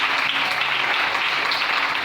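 Church congregation clapping and cheering in praise, a dense, steady wash of applause filling the room throughout with no pauses.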